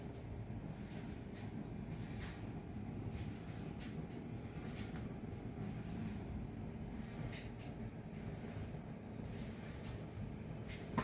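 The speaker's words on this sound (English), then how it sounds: "If you hear the washer and dryer that's in the background, I'm sorry if it's loud." A washer and dryer run in the background of a room, giving a steady low mechanical rumble and hum throughout with faint intermittent clicks and knocks, moderately quiet and continuous.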